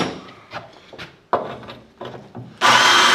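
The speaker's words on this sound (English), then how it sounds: "I'm going to drill into the tile so we don't slip and wander." A cordless drill fitted with a Marcrist MM850 multi-material bit bores into tile. Short, uneven bursts of grinding come first, then a loud, steady, harsh drilling roar runs to the end.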